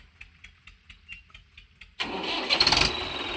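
A Mahindra 415 XP Plus tractor with a modified turbo starts up. Faint rhythmic cranking is followed by the engine catching and settling into a loud, close, rough idle.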